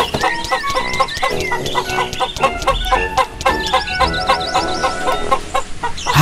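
A chicken in the video game Dude Simulator clucks repeatedly in quick, choppy bursts, loud and close over game background sounds, with no talking.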